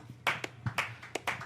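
Audience members clap for a band's bassist at a trio's live performance, a few sparse, uneven hand claps close by in a brief burst.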